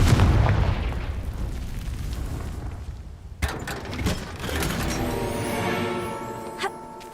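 In the Hogwarts Legacy game, a Confringo blasting spell sets off a low, rumbling explosion that decays, followed by a sharp crack and a ringing, tonal magical hum.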